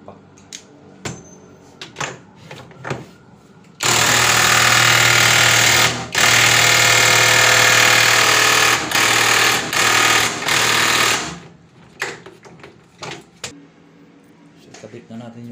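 An impact wrench fastens parts while an automatic washing machine is put back together after cleaning. It gives one loud, close, rattling burst of about eight seconds with a few short breaks, with brief talk before and after.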